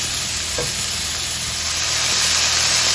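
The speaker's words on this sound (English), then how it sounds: "start to brown our chicken" Chicken browning in a pan for teriyaki chicken, giving a steady, close, loud sizzle with a few stirring scrapes and no voices.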